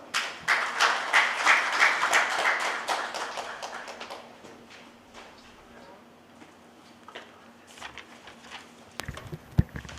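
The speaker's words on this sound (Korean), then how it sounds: "환영의 박수 부탁드립니다." An audience at a policy seminar founding event in Daejeon applauds to welcome the speakers, with loud dense clapping that tapers off after a few seconds into scattered claps and quiet murmurs.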